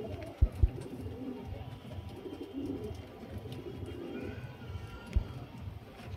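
Giribaz pigeons offered for sale at a home loft give low, soft cooing murmurs over steady background noise, with a couple of brief thumps or wing claps near the start.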